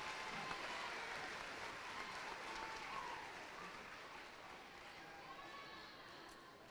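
Crowd applause for award winners at a cheerleading championship, sustained even clapping across a large hall, heard at a distance and slowly fading.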